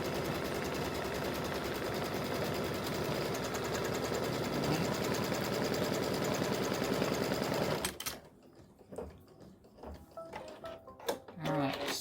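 An embroidery machine stitches fabric for an in-the-hoop mug rug, a loud, fast, steady mechanical rattle lasting about eight seconds before stopping abruptly, followed by quieter handling clicks and knocks.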